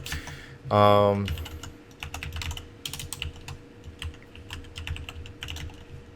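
Someone types on a computer keyboard, a quick run of close, crisp key clicks with uneven gaps, preceded by a brief loud electronic-sounding tone at the start.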